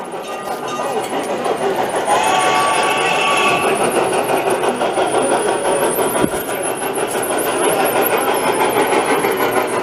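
Several scale model engines run together at a hobby show in Laval, Quebec, producing a steady, loud mechanical drone with a higher whine layered over it, constant and close throughout.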